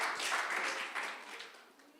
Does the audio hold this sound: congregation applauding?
yes